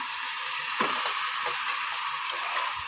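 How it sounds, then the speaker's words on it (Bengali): Leafy greens (shak) fry in a pan with a steady, bright hiss and sizzle, and a few faint stirring knocks break through now and then. "চলো শাকটা ভেজে নিই ভালো করে"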